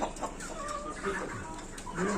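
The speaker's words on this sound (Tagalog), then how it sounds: "Dito kami sa bilihan ng manok. Bibili kami ng live chicken." Live chickens at a poultry market cluck and squawk in short bursts amid a busy, noisy background, with faint murmuring voices nearby.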